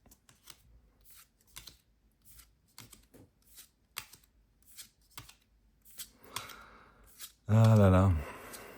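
Foil booster packs of One Piece TCG cards being opened, with a string of soft rustles and crinkles under quiet talk, ending in a loud burst of speech.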